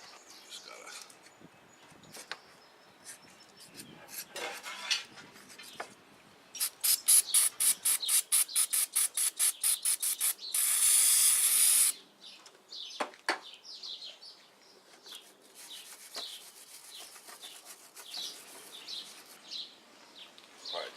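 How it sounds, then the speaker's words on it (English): An old gasket is scraped off the thermostat housing of a Jeep TJ, a close series of quick rhythmic scraping strokes building to a harsh sustained grinding burst, then scattered lighter scrapes and clicks. "we'll go clean that housing up, and we'll scrape the gasket off"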